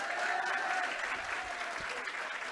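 An audience claps loudly and continuously for a teacher introduced on stage, a dense wash of applause with a brief murmur of voices in the crowd underneath.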